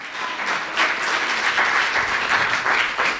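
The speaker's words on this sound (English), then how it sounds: "Let's give our King a big clap offering this morning." A church congregation at a Sunday morning service breaks into sustained, lively applause, a dense and even wash of clapping that carries on without a pause.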